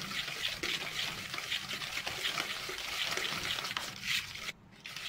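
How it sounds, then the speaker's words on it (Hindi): Cocoa powder being stirred and mixed into chocolate chip cookie dough with a spoon, a soft steady scraping and stirring texture, close and continuous, with no talking. "इनको भी इसको अच्छे से मिक्स कर लेंगे"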